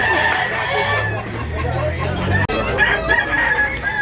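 Many chickens and roosters crowing and clucking together at a crowded poultry market in Tabunok, Cebu, with overlapping calls and a busy murmur of people nearby.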